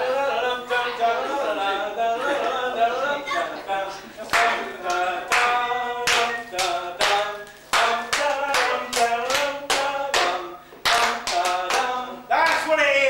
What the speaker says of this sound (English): The first hand clapping